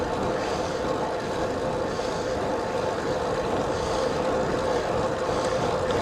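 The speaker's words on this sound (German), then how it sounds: "Ganz schön Wind." Strong wind buffeting the microphone during a bicycle ride through Swiss forest, a steady, loud rushing roar that holds without pause for the whole stretch.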